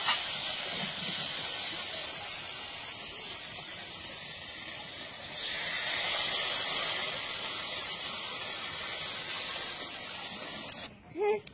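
Water hits a hot pan of sautéed spices, releasing a loud, steady steaming hiss that swells midway and carries on for several seconds before a brief clatter at the end.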